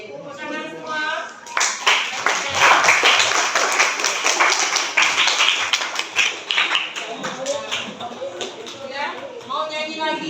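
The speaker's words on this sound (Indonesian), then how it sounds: "Oke, tepuk tangan semua." A school class claps hands together for several seconds, a burst of brisk, close, slightly uneven clapping framed by a teacher talking before and after.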